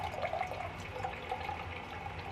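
Zero sugar Sprite pours into a glass for a makeshift rosé sangria, a soft continuous fizzing and trickling of liquid, close and quiet, with no talking.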